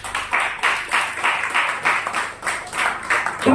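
A church congregation claps along in a steady rhythmic beat, roughly two claps per second, loud and close throughout.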